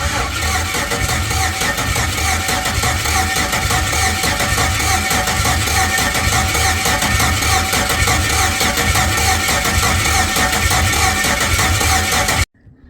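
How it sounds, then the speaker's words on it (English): An LS V8 swapped into a bagged 1964 Chevrolet C10 cranking on the starter to build oil pressure, a loud continuous rhythmic churning that cuts off abruptly near the end, no talking. "Fill it up with oil and just turn it over until"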